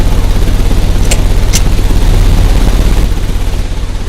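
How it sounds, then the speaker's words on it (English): A ventilation fan runs loud and constant in the video game Sherlock Holmes: Crimes and Punishments, with a steady low mechanical hum and airy rush and a couple of faint ticks over it. "This ventilation fan is working."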